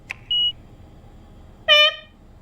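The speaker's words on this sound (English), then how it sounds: "Beep! Got it! The laptop let out a tiny sound." A laptop in the game 428: Shibuya Scramble gives two small, clean electronic beeps: a short high tone, then a brighter, richer beep about a second later, with quiet between them.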